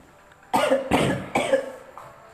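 An old man coughs three or four times in quick, harsh bursts, loud and close, with a short gap before the last cough.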